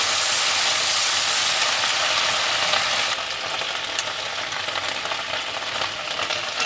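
Ginger and green chillies sizzle in a pan after a splash of water is added, a loud steady hiss that drops to a quieter crackling sizzle partway through, with no talking.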